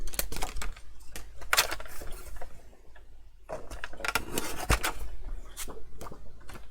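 Card being cut to size for a handmade cascading mini album box, giving a run of close, scraping cuts and taps with short pauses and a sharp snap near the end.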